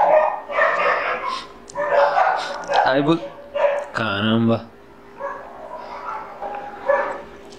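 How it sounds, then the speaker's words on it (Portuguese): Several dogs bark in short bursts in the background while someone talks over them, the barks sharp and moderately close between his sentences. "Eita cachorrada!"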